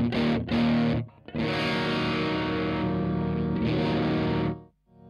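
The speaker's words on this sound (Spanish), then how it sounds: "Este pedal tiene harta distorsión, lo vamos a poner al mínimo." Electric guitar played through a Boss MD-2 Mega Distortion pedal set to minimum distortion rings out in sustained, gritty chords, a couple of short stabs and then a long held chord that cuts off, with no talking.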